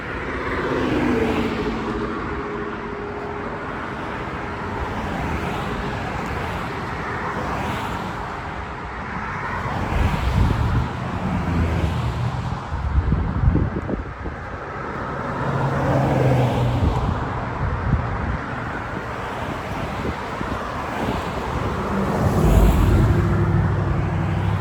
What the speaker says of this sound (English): Minus the cars, whooshing right by.